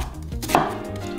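A knife chops through an onion on a cutting board in a few quick, crisp cuts, close and clear with no talk.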